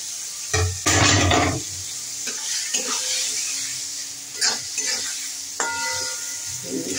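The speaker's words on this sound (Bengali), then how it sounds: "এরপরে আমি এর মধ্যে চিংড়ি মাছগুলো ছেড়ে দিচ্ছি।" Prawns frying in a pan sizzle moderately, with a loud hiss burst as they hit the hot oil, then stirring scrapes and light clinks of utensil on metal.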